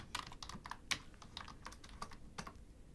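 Rapid, irregular taps on a computer keyboard, close and fairly soft, with one sharper keystroke standing out and no voice over it.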